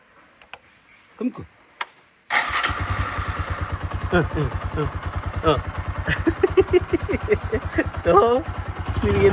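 A motorcycle engine starts abruptly after a few quiet knocks and brief voices, then idles with a steady, rapid chugging pulse, close by and loud.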